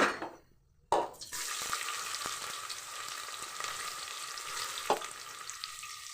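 Onions frying in hot oil with spices in a home kitchen, a sharp sizzle bursting in after a short quiet and then holding as a steady close crackle with a few stirring clinks.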